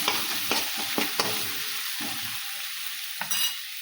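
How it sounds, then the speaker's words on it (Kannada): A spoon stirring turmeric powder into food in a hot pan, a quiet background sizzle broken by several scraping stirs in uneven bursts. "ಈಗ ಇದನ್ನು ಚೆಂದಾಗಿ ಮಿಕ್ಸ್ ಮಾಡ್ಕೊತಾರೆ"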